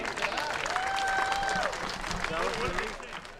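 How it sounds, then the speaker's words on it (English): Crowd applause at the close of an international men's fastpitch softball game between Canada and the United States, a steady wash of clapping lasting a few seconds, with an announcer's voice and a whistle-like tone over it. "a round of applause for a very well played game for both teams"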